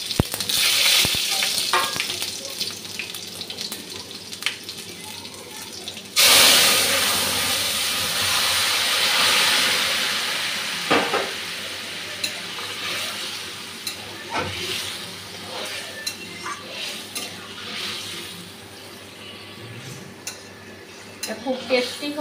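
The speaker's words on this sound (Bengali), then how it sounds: "তেলটা গরম হয়ে গেছে, ফোড়নটা দিয়ে দিচ্ছি।" Green chili and five-spice tempering dropped into hot oil for a fish curry, a loud sudden sizzle bursting in and then settling into a steady frying hiss with occasional stirring clatters.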